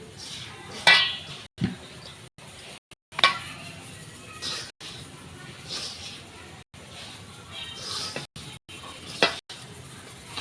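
A mixture is stirred in a pot while making pani puri: repeated scraping and clinking of a spoon against metal, some sizzling, close and steady over several seconds, with someone talking over it.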